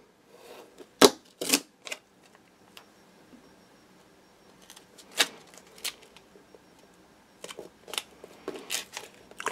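A craft knife cuts a straight edge on tape against a cutting mat, giving a few sharp isolated snicks and scraping clicks in a quiet room, with small ticks scattered between them.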